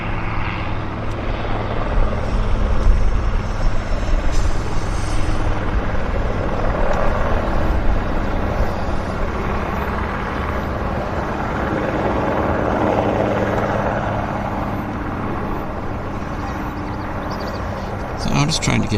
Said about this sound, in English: HeliJet helicopters leaving as well